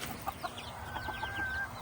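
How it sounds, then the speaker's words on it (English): Backyard chickens clucking nearby, a few short soft clucks and murmurs scattered over under two seconds, against a low outdoor background with no one talking. "The chickens are all doing great."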